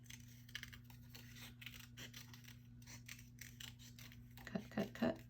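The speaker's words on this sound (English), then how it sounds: "I'm going to trim it down." Scissors trim a piece of scrapbook paper with faint, soft snips and rustling, ending in a few sharper cuts close by.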